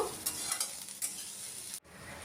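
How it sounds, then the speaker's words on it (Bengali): Chopped onions with bay leaves and black peppercorns sizzle and are stirred in a pan, a steady bright crackle with spoon scrapes, cut off by a brief gap near the end before resuming. "পেঁয়াজ দিয়ে বেশ কিছুক্ষণ একটু লাল করে ভেজে নেব"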